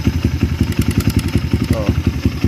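Kawasaki KLX motorcycle engine idling with a steady, rapid ticking clatter, close and loud, with a brief faint voice partway through.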